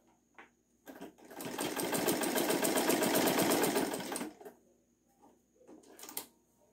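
A sewing machine stitches yellow knit fabric in one steady whirring run of about three and a half seconds, with faint handling noises and soft clicks before and after.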